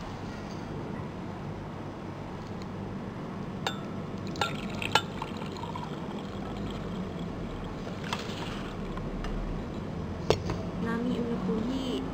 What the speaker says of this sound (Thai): เทน้ำลงในบิ๊กเกอร์